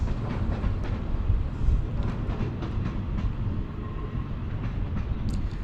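A Class 450 electric multiple unit, 450-040, pulls away from a platform on the Southampton to Lymington line, giving a steady low rumble and rolling wheel noise that stays fairly loud and even throughout, with no voices.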